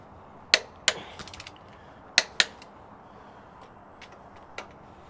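Torque wrench working over overhead injector bolts on a diesel engine fitted with a Jake brake gives sharp metallic clicks, two quick pairs and a few lighter ticks, close by in a quiet shop.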